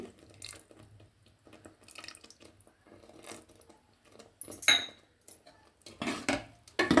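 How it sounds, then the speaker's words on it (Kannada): Tamarind juice goes into a pot of okra and lentil sambar with soft trickles and splashes, plus sharper clinks of a spoon or vessel against the pot, scattered and fairly close. "ಈಗ ನಾನು ನೋಡಿ ಹುಣಸೆ ರಸನ ಹಾಕ್ಕೊಳ್ತಾ ಇದ್ದೀನಿ"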